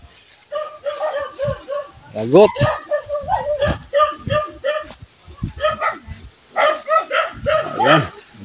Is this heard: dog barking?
yes